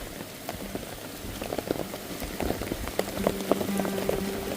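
Heavy rain pours steadily onto surfaces, a dense patter of drops that thickens slightly over a few seconds, heard alone at moderate distance.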